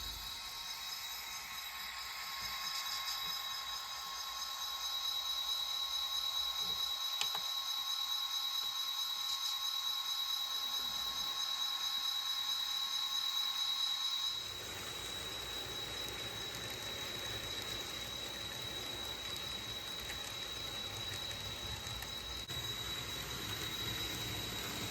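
Santa Fe passenger train number 4, the California Special, standing at Brownwood station for a crew change, a steady idling engine drone with a high whine, shifting in tone midway, continuous and without voices.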